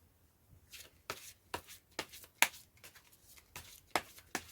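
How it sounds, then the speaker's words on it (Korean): Tarot cards are shuffled by hand in a series of soft, riffling bursts spaced about half a second apart, close and quiet, with no talking. "저 또한 같은 것을 생각하면서 카드를 섞어보도록 할게요."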